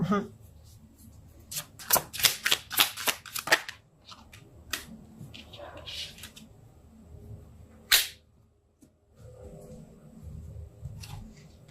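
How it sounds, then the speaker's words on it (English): Tarot cards being shuffled in a quick burst of crisp riffling snaps, close and clear, followed by a few softer card handling sounds and quieter stretches. "I'm going to pull some more cards and see what else the story has to say."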